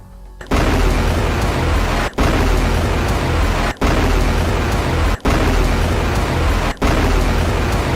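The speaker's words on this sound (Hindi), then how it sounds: "इसके बाद मिशहर बेस पर रॉकेटों का जत्था फायर किया गया।" A Hezbollah rocket barrage fired at an Israeli army base makes a loud, continuous roaring rush that starts abruptly and holds for several seconds. Several sharp breaks cut through it, with no voices.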